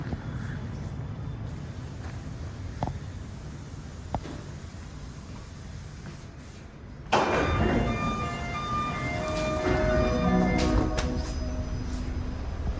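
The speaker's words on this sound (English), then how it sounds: "our train is here" A Réseau Express Métropolitain metro train rumbles into Ville-de-Mont-Royal station, its roar rising abruptly partway through, with squealing brake tones and a steady mechanical hum as it slows.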